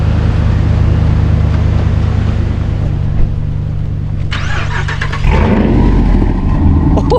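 A pickup truck engine running after starting and warming up, with a steady loud idle hum that shifts to a rougher, busier engine tone with added rattling for the final couple of seconds.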